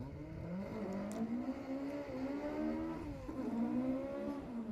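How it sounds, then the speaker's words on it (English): A BDA-engined Ford Escort rally car climbs a forest stage at the Ashley Forest Rally, its high-revving engine loud and close, rising and falling through gear changes without a break. "there's nothing like the sound of a BDA Escort"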